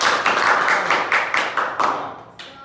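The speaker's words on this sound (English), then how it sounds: "Alright, everyone give Fika a round of applause" A small group claps at an infant first aid and CPR training session in a short burst of fairly close applause that fades out after about two seconds.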